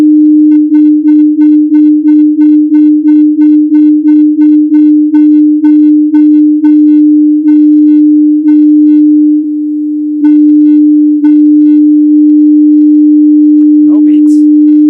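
Two sine tones play together as one loud, perfectly steady hum with no wavering, broken by a short dropout and ending in a brief sweeping chirp.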